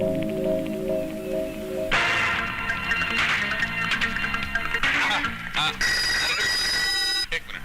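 A telephone rings with a repeated electronic tone, loud and clear, alternating with stretches of dialogue and music in a Hindi action film scene.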